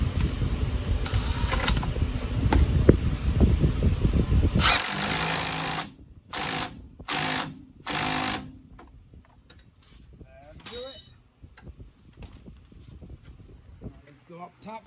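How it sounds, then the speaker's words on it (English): An impact gun with a 17 mm socket hammers on the front strut of a 1999 Honda Accord. A sustained loud burst is followed by three short, forceful rattling bursts, then quieter clinking of tools. "let's switch to 17 millimeter. Hold it back and hit it with the gun in the front."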